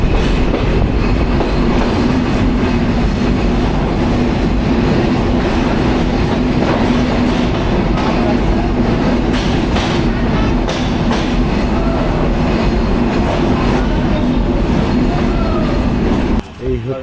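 Shimanto Express, a broad-gauge passenger train bound for Khulna, rumbles steadily along the rails with continuous loud wheel and carriage noise, clattering close by throughout before cutting off abruptly at the end.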